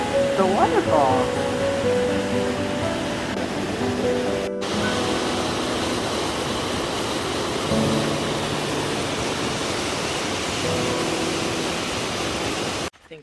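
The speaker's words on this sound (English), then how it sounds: "The waterfall." A waterfall roars as a loud, steady rush in snowy Southern California mountains, with brief voices near the start.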